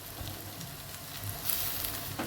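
Okra masala (bhindi) fries in a pan with a steady, soft sizzle and faint stirring scrapes, close by and without any voices.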